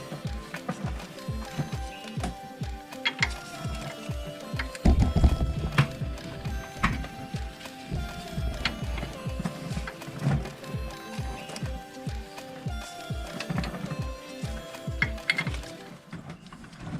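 A bolt is run into a Nissan Sentra front shock strut assembly, a long stretch of rapid, rhythmic metallic clicking and knocking at close range, steady for about seventeen seconds with a louder patch near the start.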